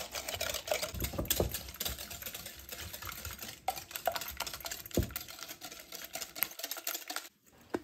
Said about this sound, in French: Et fouettez l'ensemble pendant quelques secondes